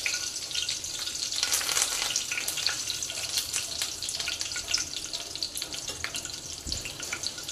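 Green chillies and curry leaves sizzle in a spoonful of hot oil in a pan, a steady crackling frying hiss with occasional pops, close and moderately quiet, with no talk.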